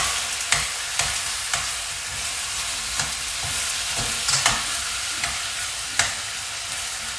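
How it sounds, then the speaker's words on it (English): Steady crackling sizzle of chicken frying in a pan for gà kho, with occasional sharp clicks and scrapes from tongs, close and moderately loud, no voices. "So I'm sizzling the chicken and just letting it run a bit"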